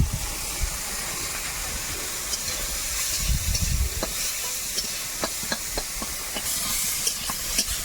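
Chopped eggplant hits hot oil in a home kitchen with a continuous loud sizzle and hiss, with scattered pops and occasional stirring scrapes throughout.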